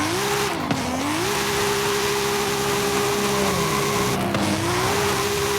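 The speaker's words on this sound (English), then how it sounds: "I've upgraded the engine to a racing 2JZ, meaning it goes a little bit faster." A racing 2JZ engine in an upgraded sleeper car in Forza Horizon 5 holds a steady, loud drone through the whole clip, with two quick dips and swells in pitch as it shifts gears and accelerates again.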